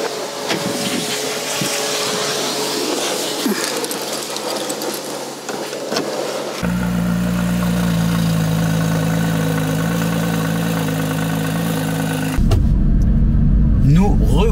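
A Porsche 997 GT3 RS with its 3.8-litre engine runs loudly and steadily, first as a rough outside drone, then as a smooth in-cabin hum, with an abrupt shift to a harsher tone at the end.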